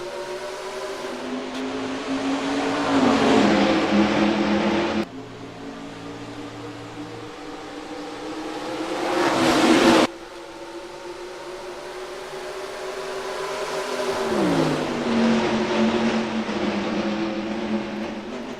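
Stock cars at the green-flag start of the Oreo 400 at Rockingham in the NR2003 racing game, engines droning loudly and rising in pitch as they accelerate, in several sustained surging passes with abrupt cuts between them.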